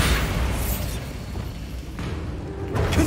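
A Bombarda blasting spell explosion in Hogwarts Legacy, a loud, dense blast of rumbling noise that carries through the whole three seconds, close and without speech.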